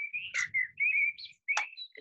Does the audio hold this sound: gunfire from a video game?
no